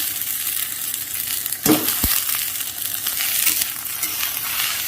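Chopped vegetables hit hot oil seasoned with panch phoron and cumin for a sour spinach dish, bursting into a loud sizzle with a couple of sharp clatters, then frying steadily without talk.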